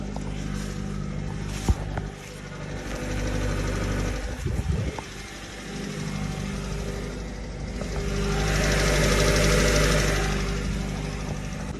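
A 2023 Maruti Eeco petrol engine runs at idle, heard from outside the van, a steady close mechanical hum with a brief knock or handling noise midway and a slight rise in engine note toward the end.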